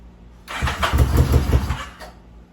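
An old muscle motorcycle engine, left sitting for years with clogged jets, cranks and briefly catches in a short, close, rough burst before dying away.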